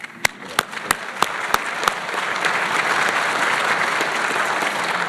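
Audience applause at a community award presentation ceremony, opening with about six loud, evenly spaced claps that quickly swell into sustained, dense clapping from a large crowd.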